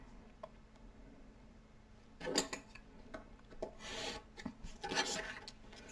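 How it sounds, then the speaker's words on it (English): Paper overhang being trimmed from a handmade flexagon: quiet, brief scraping and rasping cuts in a few short bursts, close by and alone in a hushed room. "So I'm just going to trim that off."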